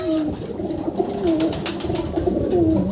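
A racing pigeon from Nueva Ecija coos in soft, repeated low rolling calls, steady and fairly close against a light background hiss, with no talking.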